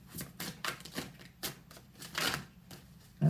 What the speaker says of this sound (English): I don't like shuffling cards.